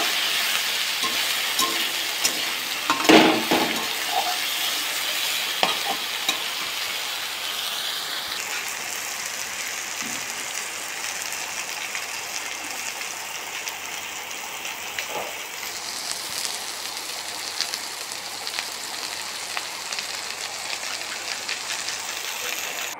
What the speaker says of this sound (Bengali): এবার আলু আর বেগুন একসাথে ভেজে নেব